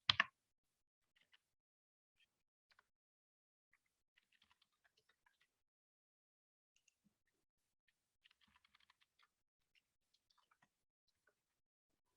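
Sparse, faint computer keyboard keystrokes, scattered single taps and short bursts of typing, close and quiet in an otherwise silent room.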